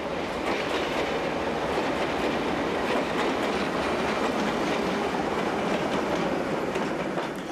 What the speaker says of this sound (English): Here another Alco brings in a local from Setúbal.